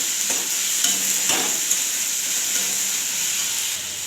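Ground cumin paste hitting a hot frying pan, a close bright sizzle with stirring scrapes and brief bursts of spitting oil, steady and continuous with no talk.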